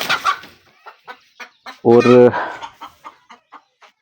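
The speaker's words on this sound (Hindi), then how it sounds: "अब मैं मुर्गियों के डरबे का आपको विजिट करवाऊंगा। मुर्गी को छेड़ूंगा" Hens in a village chicken coop cluck in short, separate bursts near the microphone, with one louder drawn-out squawk in the middle; a brief spoken word is barely heard.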